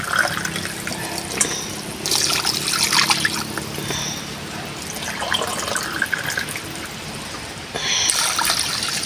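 Water pours steadily into a cooking pot that will take soaked rice, a continuous splashing trickle close by that swells louder in bursts, briefly easing in the middle before picking up again near the end.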